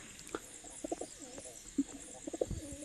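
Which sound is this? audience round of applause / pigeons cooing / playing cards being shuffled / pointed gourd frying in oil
pigeons cooing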